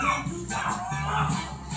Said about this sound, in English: Auntie Candy's doggy, huh? Is barking